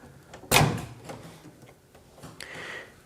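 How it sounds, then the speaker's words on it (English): A GE microwave door pops open with one sharp latch clack, followed by fainter clicks and a soft rattle as the door swings free. "we're just going to open up our door."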